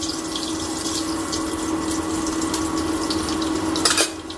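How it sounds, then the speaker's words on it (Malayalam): Cumin seeds spluttering in hot oil in a pan for a curry, a steady close crackle and hiss with a hum underneath, ending in a brief louder flurry near the end, with no talking. "ജീരകമൊക്കെ പൊട്ടിയിട്ടുണ്ട്"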